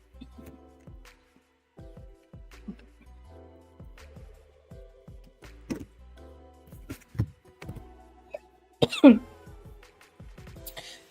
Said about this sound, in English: I really need this cough to go away, man.